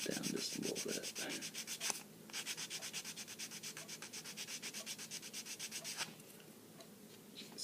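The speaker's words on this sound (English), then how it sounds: "I have here some coarse a sanding stick right here, and I just kind of like to go back and forth." A coarse sanding stick is rubbed back and forth over a plastic model part in steady, close strokes. The rasping comes in an even rhythm and there is no talk over it.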